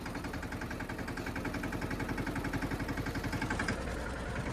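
A tractor engine idles nearby on a farm, a steady low rhythmic chugging with regular pulses that stays even in loudness, heard alone without talk.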